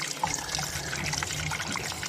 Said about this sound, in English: And then I just run the water into here